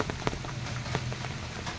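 Steady rain falls in a continuous hiss with scattered sharper drop impacts, close and moderately loud, during a downpour that floods a backyard and fills a well in Kundapura. No voices are present.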